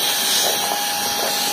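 A steady, loud whooshing hiss of a Suitu ST 6645 Pro car vacuum cleaner motor running continuously on its first speed setting, with no voices.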